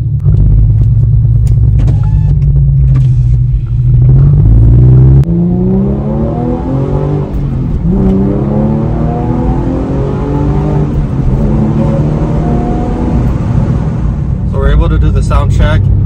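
A Porsche 997 engine revs up from about 3,000 to 6,000 RPM. After a deep idle rumble, its pitch climbs in a loud, sustained sweep with a gritty mechanical whine, heard close up.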